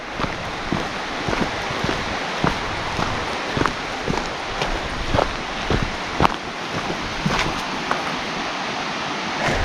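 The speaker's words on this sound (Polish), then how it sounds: "teraz wyraźnie słychać" Steady broadband rushing of a mountain stream in the Łomniczka Valley, Karkonosze, constant and full, with occasional small clicks and taps on top, no voices.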